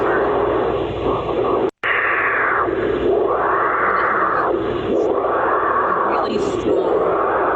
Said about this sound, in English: This is the sound of a sea turtle's heart.